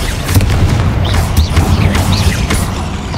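A Confringo blasting spell in the Hogwarts Legacy video game goes off inside a catacomb tomb as a loud, booming burst of sustained rumbling crackle with several sharp pops and whooshes layered over it.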